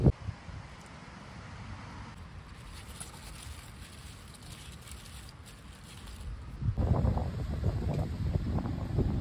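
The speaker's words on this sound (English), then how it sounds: "I think that was a really good harvest, but it's so windy." Wind gusting through an outdoor vegetable garden during a late-summer harvest, a steady broadband rush at moderate level that swells louder and rougher near the end, with buffeting against the microphone and no talk.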